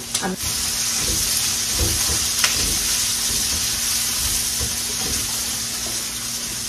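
Green chilies frying in a hot pan for a shrimp and bottle gourd leaf dish, a steady close sizzle with a few stirring scrapes and clinks, no talking.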